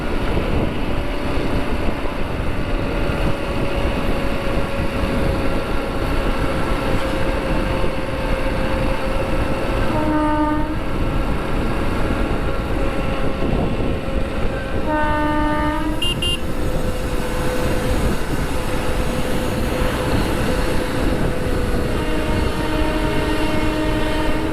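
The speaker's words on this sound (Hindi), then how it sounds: "बहुत रेयर ऐसी सिचुएशन होती है जहाँ पे मेरे को ट्रेन मिलती है ऐसे" A train rolls past close alongside with a steady loud rail rumble, and its horn sounds in two short blasts partway through.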